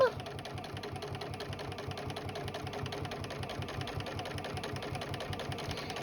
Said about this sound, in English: I'm top stitching all the way around